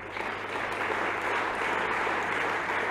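Sustained applause from an audience at an alumni association general assembly, a dense, steady wash of clapping that holds evenly throughout with no talk over it.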